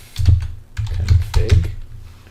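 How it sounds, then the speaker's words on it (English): A command is typed on a computer keyboard into a terminal, a close, loud run of quick key clicks in small bursts with short pauses between them. "instead of ipconfig, you're going to type ifconfig"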